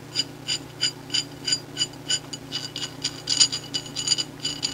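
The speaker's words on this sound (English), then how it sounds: "Take your wrenches, tighten them down." Wrenches tighten 5/8 nuts on a threaded rod, producing a close, regular series of about fifteen sharp metallic ratcheting clicks over a faint hum.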